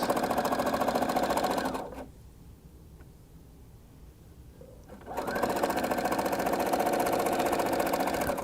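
A sewing machine stitching fabric for a wrap dress, running in a steady fast mechanical hum, stopping for about three seconds, then starting again at the same pace, loud and close.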